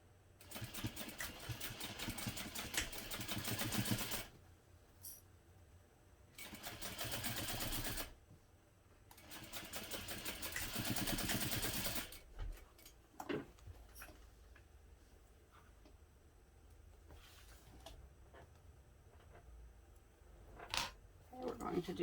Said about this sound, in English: I'm going to back stitch over the connectors an extra time